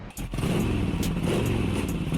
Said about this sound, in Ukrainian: На цих кадрах окупант на мотоциклі спробував перестрибнути на швидкості танковий рів